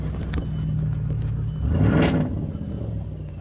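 Audi 4.2-liter V8 running without catalytic converters, a steady deep rumble swelling into a brief throaty rev near the middle before settling back, close and fairly loud with no talking.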